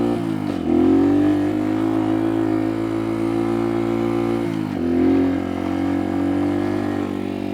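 A Kuba Race 125 motorcycle engine, which has a problem when revved in neutral, revs steadily and loudly on a sandy beach, dipping briefly and rising again twice, with no voices over it.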